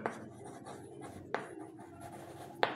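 Pen scratching out a number during a class 5 maths lesson, a steady faint scrape of strokes broken by a few sharp taps, with no talking.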